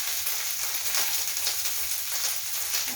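Dal (lentils) dry-roasting in a pan give off a continuous soft crackling sizzle, close by and steady for a few seconds, with no talking.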